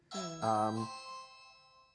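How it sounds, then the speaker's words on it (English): A two-tone electronic doorbell chime rings once, a bright ding followed by a lower dong that fades out. "Is that the doorbell?"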